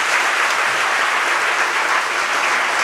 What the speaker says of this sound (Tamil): இன்னொரு முறை நல்லா கை தட்டுங்க பாப்போம்.